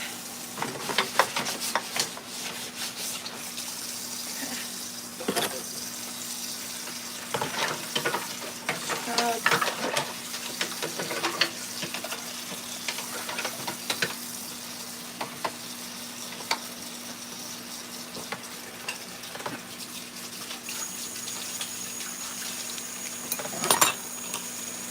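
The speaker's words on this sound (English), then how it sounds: "So I'm just gonna scrub shit and rinse shit." Dishes scrubbed and rinsed under running water, a constant hissing stream broken by frequent clinks and clatters of crockery and utensils up close.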